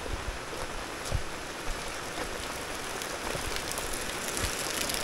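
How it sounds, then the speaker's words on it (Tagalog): Steady overnight rain falls on soaked ground, a dense continuous patter with occasional louder drops, close and even throughout with no voices. "Ang lupa, magdamag ba namang ulan?"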